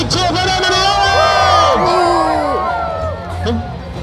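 Crowd at a ferret race cheers and whoops loudly, a dense mass of shouting voices including children's, sustained and close throughout.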